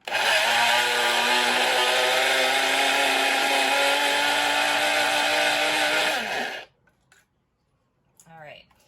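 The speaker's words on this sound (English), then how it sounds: "until the seeds are finely ground" An electric grinder whirs loudly and steadily for about six seconds, finely grinding seeds for dukkah, then cuts off into near silence before a brief voice.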